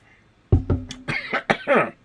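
A sudden, close cough followed by a couple of shorter throat-clearing hacks, loud and unaccompanied by talk.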